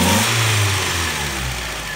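A cold 1.6-litre Mazda Miata MX-5 engine running steadily just after fuel injector replacement, a close, even idle with a low hum and faint harmonic tones, no voices.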